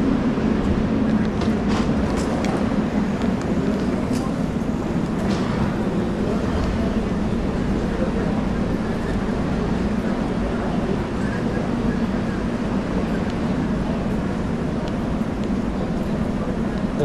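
Continuous low rumble of a tram rolling along the tracks, steady throughout, with a voice speaking over the noise.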